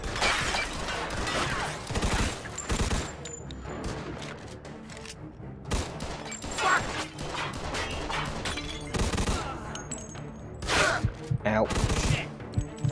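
Rapid bursts of gunfire, including shotgun blasts, from a shootout in Mafia 2: Definitive Edition, with loud cracks, crashes and shattering repeating across the scene over game sound.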